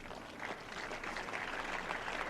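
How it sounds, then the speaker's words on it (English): Thin, scattered applause from a tennis crowd at the 2006 Berlin Open, Hingis versus Pennetta, steady but unenthusiastic, lasting a couple of seconds. "It's sort of lukewarm applause"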